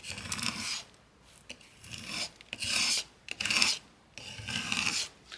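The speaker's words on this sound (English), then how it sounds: "to clean your mat, you just take your scraper tool and it cleans it right off" A scraper tool rasps across a crafting cutting mat in about five firm, close strokes with short pauses between them, and no one speaks.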